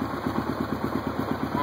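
A 1993 Yamaha Tenere 600 motorcycle idles with a steady, rapid low thumping pulse, heard close up over a brief stretch, with a voice speaking over the engine.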